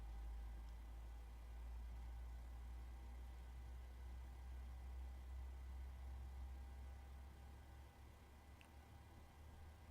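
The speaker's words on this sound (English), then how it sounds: "we'll listen to the bass of the 737 engine start" Deep, steady low rumble of a PMDG 737-800 engine spooling up during start in the MSFS 2020 flight simulator, a constant heavy drone that holds unbroken for the whole stretch with only faint high hiss above it.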